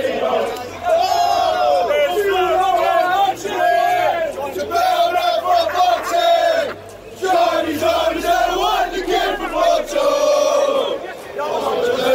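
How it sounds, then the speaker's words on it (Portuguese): A football crowd chants in unison before a semi-final at Wembley on a cold, misty evening, loud rhythmic sung phrases repeating with a brief dip midway, a large stadium mass of voices. "E a torcida tá aquecendo o clima aqui."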